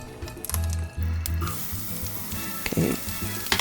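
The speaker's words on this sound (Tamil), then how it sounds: "வெங்காயம் கொஞ்சம் கட் பண்ணதை ஆட் பண்ணிடலாம். அது கொஞ்சம் நல்லா பொரிஞ்ச உடனே" Chopped onions sizzle and fry in hot oil in a pan while ghee rice is being made, a steady close frying hiss with stirring clatter and a few louder scrapes, no talking.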